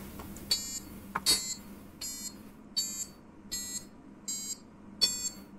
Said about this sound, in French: On a pu générer des petites mélodies avec un buzzer passif.